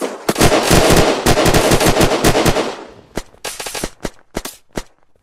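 Rapid automatic gunfire in the survival shooter Unturned, loud dense bursts for about three seconds, then scattered single shots and short volleys trailing off.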